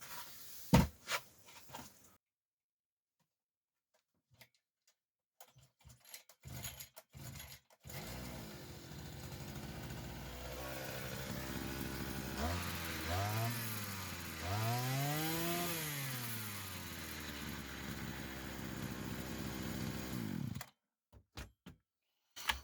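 A Sadko petrol brush cutter, previously leaking fuel from its air filter, is started after a few sharp pulls and clatters, then runs with a rising and falling engine whine that revs up and down before cutting off.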